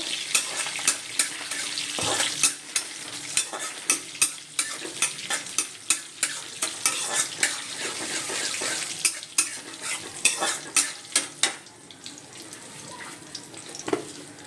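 A frying dish with chili and sugar is stirred in a pan: repeated, rhythmic scraping strokes over a bright, continuous sizzle, close and clear, with the stirring stopping near the end while the frying hiss quietens.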